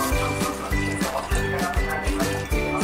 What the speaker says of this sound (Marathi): आता त्याच्यात आपण पाणी घालू।